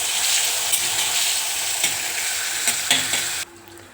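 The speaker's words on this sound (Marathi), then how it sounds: "तर पहा इथे मी टोमॅटो तेलावरती छान असा परतवून घेतला" Tomato sautéing in hot oil gives a steady, close, loud sizzle, with occasional spoon-scraping clicks as it is stirred. The sizzle cuts off abruptly near the end.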